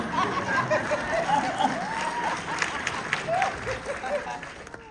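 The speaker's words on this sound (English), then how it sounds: "1, 2, 3, 4, 5 claps" An audience claps along during an event with Oprah Winfrey and the cast of The Color Purple, scattered claps mixed with chuckles and crowd murmur while a voice speaks over the top.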